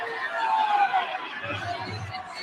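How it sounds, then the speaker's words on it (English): A Marshall soccer crowd at a college stadium swells into a broad, rumbling wash of voices, near-constant and fairly loud, with chatter blended throughout. "And the Marshall crowd coming to life."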